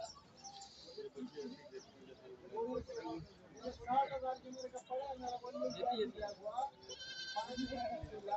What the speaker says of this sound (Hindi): ये देखिए गब्बन है, ये गब्बन बकरी है।